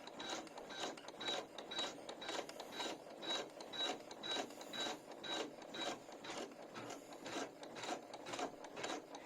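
Janome MC12000 computerized embroidery machine basting fabric and stabilizer in the hoop, a steady rapid mechanical stitching chatter with regular pulsing beats, close and continuous with no talk.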